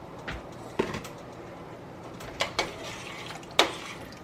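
Diced potatoes being dropped into a pot for corn chowder, a few separate close clunks and knocks spread over several seconds against a quiet room background.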